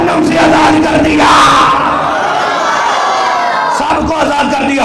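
A large crowd shouts slogans together at full voice, the massed voices swelling and surging loudly and continuously in a reverberant gathering at a religious assembly.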